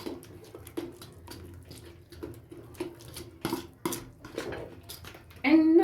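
Bhajia paste of curry powder and fresh coriander mixed in a bowl, heard as repeated clinks and scrapes of a utensil against the dish, with a louder burst of clatter near the end.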